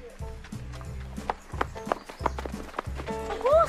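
A horse on a farm makes repeated hoof-like thumps and movement sounds close by, with brief voices and rustling around it.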